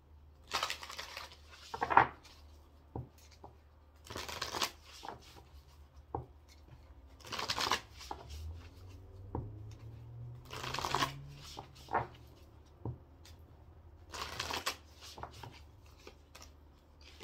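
Tarot cards being shuffled in repeated bursts of riffling and sliding, each burst a second or two long with short pauses between, close and fairly quiet.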